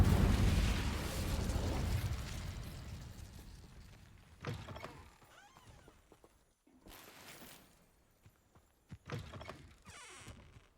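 An Incendio fire spell bursts in a Harry Potter video game, a loud whooshing roar that fades over a few seconds, followed by scattered crackling and thudding impacts.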